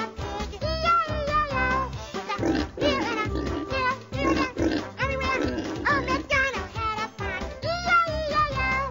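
Cartoon pig oinking from a Sesame Street farm listening game, a busy, dense run of grunting oinks lasting several seconds, loud and close with no talk over it.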